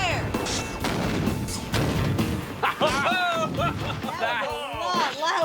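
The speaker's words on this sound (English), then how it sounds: "You can definitely feel that thud" An ANFO explosion delivers a heavy booming thud with a crash and rumble at the start, followed by people talking and reacting excitedly over the fading noise.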